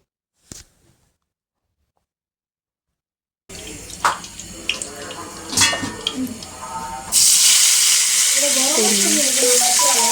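Guttum fish dropped into hot oil in a home kitchen: after a brief clatter and silence, clinks and stirring lead to a sudden loud, continuous sizzle of frying that holds to the end, with someone speaking briefly.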